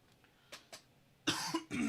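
Several throat clears and coughs from one person, two short soft ones followed by two louder, harsher bursts close to the microphone.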